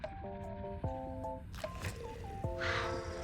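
Exploding fish hatching in Subnautica: Below Zero: soft bubbly squishes and short tonal blips over a steady underwater game ambience and droning music, with a brighter fizzing burst near the end.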